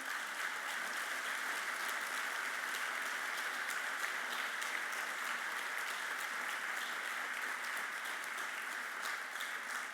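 Distant, even applause rises from an audience at a political institute gathering in honor of its members, a continuous soft patter of many hands heard at low level for ten seconds.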